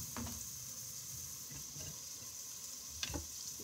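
Onion frying in a pan for beef chili gives a steady close sizzle, with a few soft clinks of stirring scattered through it.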